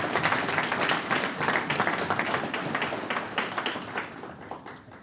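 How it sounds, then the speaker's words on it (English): An audience at Medicare Con 2021, an insurance conference, breaks into sustained applause, a dense wash of many hands clapping together that fades slightly toward the end. "let's give Justin Brock and Bobby Brock Insurance a huge round of applause for throwing such an awesome event"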